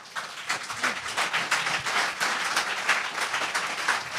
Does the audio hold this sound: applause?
yes